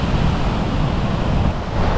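Ocean waves wash onto a beach in Bali, a steady broadband rush of surf mixed with wind buffeting, close and loud without pause.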